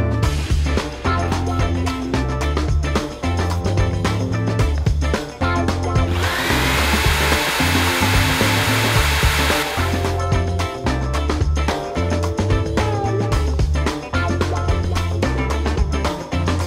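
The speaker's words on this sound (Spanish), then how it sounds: "vamos a hacer el primer intento de cortar la madera" Power tool cutting recycled wood for a van floor, a loud continuous whine and grind with rhythmic bursts, and a brighter, harsher stretch in the middle as the blade bites harder.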